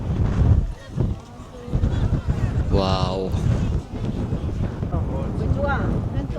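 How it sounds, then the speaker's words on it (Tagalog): Wind gusting at a scenic Jeju Island viewpoint in South Korea, a steady low buffeting rumble against the microphone throughout, with a person speaking briefly over it. "sarap ng hangin."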